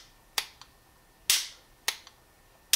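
The ambidextrous safety on a Sbardella Arms Full Stroke Commander 1911 pistol gives sharp, close metallic clicks as it is flicked off. Several crisp snaps come at irregular intervals, some followed by a faint secondary tick, with no talking.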